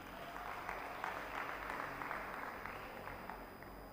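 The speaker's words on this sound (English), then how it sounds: "please give her a round of applause" A crowd claps steadily, a dense patter of applause that stays even and fairly distant throughout, with no voices over it.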